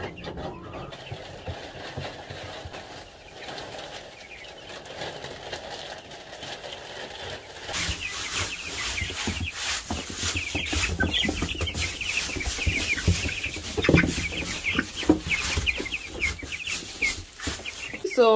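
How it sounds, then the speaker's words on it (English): Young Cornish game hen chicks cheep and cluck continuously at close range in a warm indoor brooder, the chatter growing busier and louder partway through, with faint background voices mixed in. "I still have 20 healthy chicks here"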